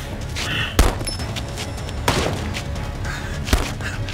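Gunfire in a police TV series shootout inside a factory workshop: three sharp, separated shots ring out over a constant noisy background, each followed by a short echo, with no talk.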